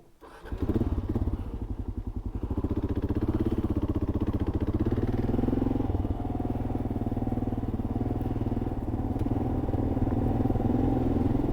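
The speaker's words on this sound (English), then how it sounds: "we'll get back on the bike and keep on heading north." A Kawasaki KLR650 motorcycle rides on through the remote outback, its steady engine drone close and loud for the whole stretch, with a brief dip early on before it settles into an even, continuous run.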